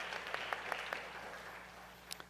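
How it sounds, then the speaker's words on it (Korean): Scattered clapping from a church congregation during a Sunday service, a loose patter of handclaps fading and then picking up briefly at the end, heard from a distance in a large room. "축하의 격려의 박수를 부탁드리겠습니다."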